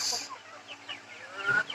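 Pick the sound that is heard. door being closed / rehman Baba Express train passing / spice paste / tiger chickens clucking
tiger chickens clucking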